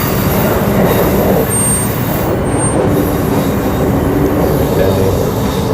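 A Perth commuter train runs on its rails on the line from Fremantle to High Wycombe. The loud, constant rumble and rail roar come from inside the carriage with no break.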